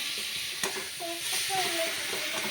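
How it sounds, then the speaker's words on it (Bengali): A spoon stirs shrimp and taro stolon curry in a pan over a bubbling sizzle, with a sharp clink and scraping strokes, close and steady without talk. "আমি একটু চামচটা দিয়ে নেড়ে নেড়ে দিচ্ছিলাম যাতে তলায় ধরে নেবে"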